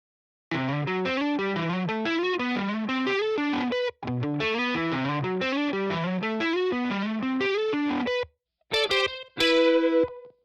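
A distorted electric guitar plays a steady, busy riff with rhythmic picked notes, pausing briefly before ending on a couple of ringing chords.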